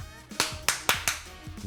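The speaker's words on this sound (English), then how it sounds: "Clap." Sharp hand claps during a podcast recording session, a handful of close, crisp slaps at uneven intervals in a quiet room with faint background sound.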